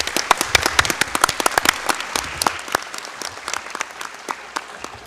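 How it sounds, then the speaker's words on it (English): An audience at a school district board meeting gives a round of applause for a high school chorus, a lively burst of many hands clapping that gradually thins toward scattered claps over about five seconds. "how about another round of applause for those"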